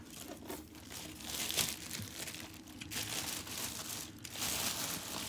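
A late-1980s Bahama 16-inch desk fan being unwrapped from packing paper, producing continuous close crinkling and rustling with a few sharper tearing bursts, no voices.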